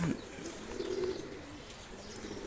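Pigeons, a pair of a colored old-breed line kept in a cage, give soft low cooing sounds that run steadily through the clip, alone with no voices over them.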